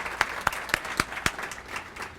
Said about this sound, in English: Please join me in giving a big round of applause for these wonderful board members.